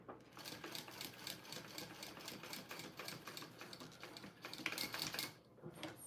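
A sewing machine stitches a small Park Mini Backpack in a fast, steady patter of needle strokes, close and fairly quiet, with a brief slowdown near the end.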